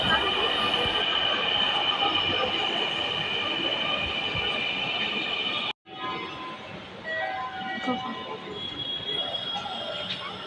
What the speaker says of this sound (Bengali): ফাইনালি মেট্রো চলে আসছে।